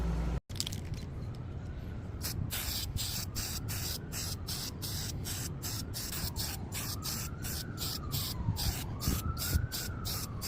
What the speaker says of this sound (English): All right, let's go spray some green.